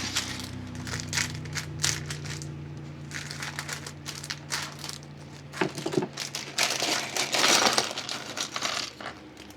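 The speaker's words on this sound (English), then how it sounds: "There we go with bag number 4. Get it cut open." A plastic Lego parts bag is cut open and handled, with crinkly rustling, small clicks and a rattle of loose plastic bricks in uneven bursts over a low steady hum, close up and without talking.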